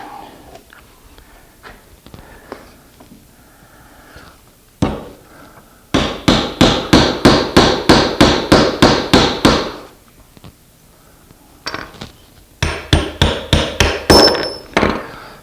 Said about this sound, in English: Use a hammer to drive it.